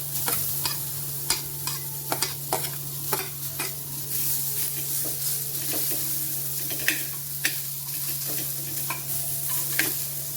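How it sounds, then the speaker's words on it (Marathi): Onion sizzling steadily in a pan for an egg curry, with a constant frying hiss, a low steady hum beneath, and scattered sharp taps and scrapes of a spoon stirring throughout. "आता याच्यामध्ये ना आपण कांदा भाजून घेऊ। हे बघा, याच्यामध्ये आपण कांदा भाजू।"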